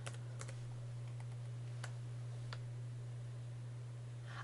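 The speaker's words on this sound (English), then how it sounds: "I'm going to type comments here" Typing on a computer keyboard: a few sparse, light key clicks scattered over a quiet background with a steady low electrical hum, close but faint.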